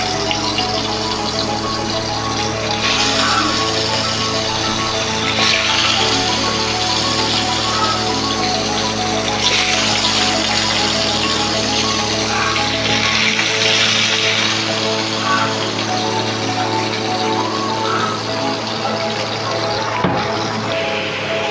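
Bhola fish fry one by one in hot oil in a wok, giving a loud, continuous, hissing crackle that holds steady throughout with slight swells and a low hum underneath.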